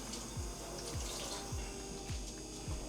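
Water poured from a cup while making barbecue sauce, a continuous splashing trickle with rhythmic gurgling pulses about every half second, close and moderately soft.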